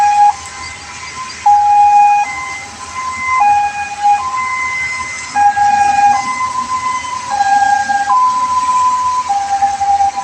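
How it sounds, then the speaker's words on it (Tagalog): An ambulance siren wails in a steady alternating two-tone pattern on a city street, loud and sustained throughout with faint road traffic underneath. "May paparating na ambulance yan."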